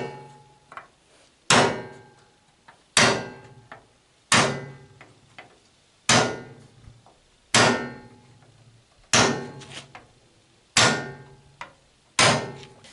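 Center punch struck with a hammer against metal ahead of drilling, during work on a Citroën Traction 11B interior: nine sharp, close taps spaced about every one and a half seconds, each ringing briefly before fading, with no talk.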